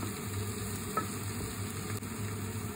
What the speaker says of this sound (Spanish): agregamos la cebolla, el ajo. Doramos hasta que esté transparente